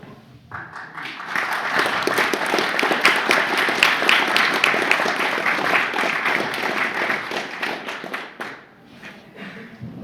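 Audience applause at a Turku.AI tech meetup, a roomful of steady clapping lasting several seconds before tapering off.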